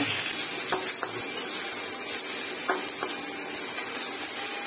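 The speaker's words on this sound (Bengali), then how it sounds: "সামান্য তেলের উপরে একটু আদা দিয়ে নাড়াচাড়া করে ওর মধ্যে আমি এটাকে ঢেলে দিলাম" Paneer and mushroom frying in a little oil with ginger, a steady close sizzle throughout with a few soft scrapes and taps of a spoon stirring in the pan.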